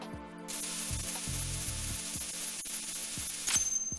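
A handheld sprayer in Metal Gear Solid 2 hisses in a sustained bright spray, with soft mechanical clicks and a few low thumps underneath, close and steady with no speech.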